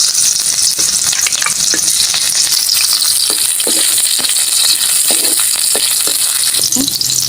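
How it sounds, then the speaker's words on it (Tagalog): Onion and garlic sauté in a pan for Filipino pork and taro (baboy at gabi), giving a loud, close, constant sizzle broken by frequent scraping and clacking stir strokes, with no voices. "Magigisa na pa tayo. Isasabayin mo natin yung sibuyas at bawang."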